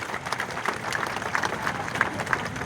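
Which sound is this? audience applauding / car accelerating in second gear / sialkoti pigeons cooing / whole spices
audience applauding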